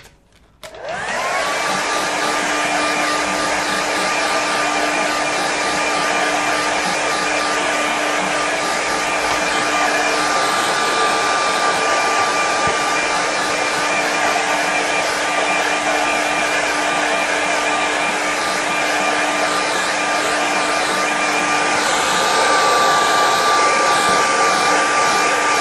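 A hair dryer blowing on a watercolour winter scene to dry it: a loud, steady, close whirring roar that switches on abruptly and runs continuously without pause.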